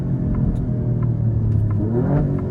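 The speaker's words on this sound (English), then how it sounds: "Perfect crispy downshifts." A 2024 Alfa Romeo Giulia Quadrifoglio engine revs loudly and continuously through a downshift, a close, rumbling roar with rising pitch toward the end and no talk over it.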